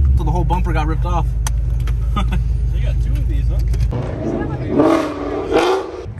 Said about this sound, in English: Dre just over there revving it up with his Corsolas.